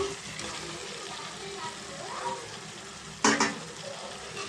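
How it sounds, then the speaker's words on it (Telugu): Fried chicken is stirred into curry masala in a pan, giving a soft, quiet sizzle with stirring scrapes and a brief louder clatter near the end. "ఇప్పుడు దీంట్లో మనం ఫ్రై చేసుకున్న చికెన్ వేసుకున్నామండి"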